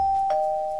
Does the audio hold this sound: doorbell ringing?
yes